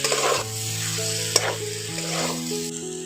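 Pumpkin pieces with salt and coriander powder being stirred and mixed in a hot pan for komro chakka, a steady soft sizzle with scraping stirs, close and continuous, with steady background music.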